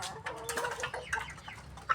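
Chickens, many of them roosters, cluck and murmur close by in an overlapping, restless chorus, with a brief louder squawk near the end.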